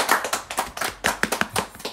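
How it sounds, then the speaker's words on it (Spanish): Hands clapping in applause for Blanquita at a 25th-anniversary cake celebration, a small group giving about a dozen distinct, fairly close claps in an uneven rhythm, with no talking. "un aplauso, por favor,"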